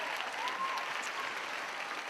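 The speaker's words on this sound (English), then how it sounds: "Applause." Steady audience applause filling a Kilgore College Rangerettes showcase performance hall, a dense even wash of clapping sustained throughout without a break.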